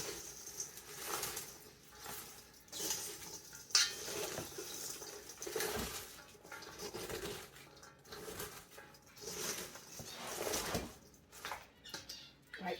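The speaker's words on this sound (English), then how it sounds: "And we're going to stir." Shredded cabbage and salt for sauerkraut are stirred in a bowl, giving intermittent scraping, clinking and rustling strokes at close range, fairly quiet, with no talk.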